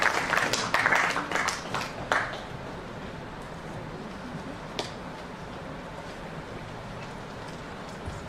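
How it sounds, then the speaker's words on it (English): A ceremony audience applauds in a burst of dense clapping that fades out after about two seconds, leaving a quiet hall with low background hum and a single faint knock later. "Please give a big round of applause for Meera Das ji."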